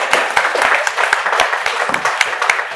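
Audience applause fills a talk hall at MNIT Jaipur, steady dense clapping with sharp individual claps standing out, loud and close, with no speech over it.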